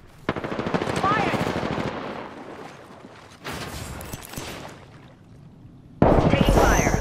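Rapid automatic gunfire in the battle-royale shooter Apex Legends, loud sustained bursts stopping and restarting, with a sharper close-range burst at the end, mixed with game voice lines.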